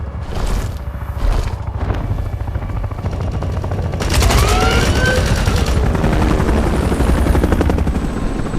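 A helicopter's heavy rotor thrum drones steadily and loud, overlaid by bursts of rapid gunfire and mechanical clatter in a Mortal Kombat X battle scene.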